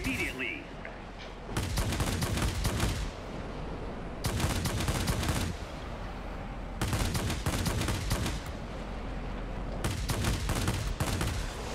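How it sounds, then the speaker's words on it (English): Aircraft cannons on a Tier X Japanese Tachikawa Ki-162-III fighter in World of Warplanes fire in four short, loud bursts of rapid gunfire, separated by brief pauses over a steady engine drone. "Using short bursts because these cannons just really overheat."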